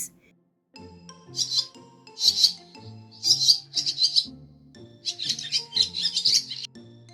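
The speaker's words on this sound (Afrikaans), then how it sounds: "In die oggend, klein swaalkies." Small swallows chirp in the morning, a series of bright, high twittering bursts in quick clusters with brief pauses between, fairly close, over a soft low tonal background.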